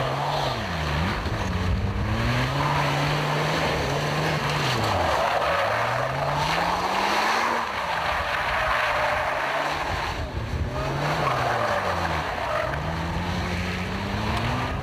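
A Lotus Exige on worn semi-slick tyres slides around barrels, its engine note rising and falling in repeated sweeps over steady tyre and road roar, loud and close throughout with no talking.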